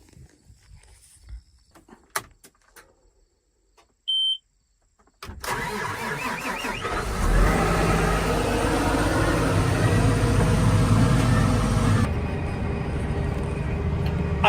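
A few quiet clicks and knocks come first. Then a tractor engine starts up during Nebraska harvest field work and settles into a loud, steady, close rumble that continues to the end.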